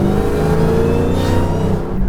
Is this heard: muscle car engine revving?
yes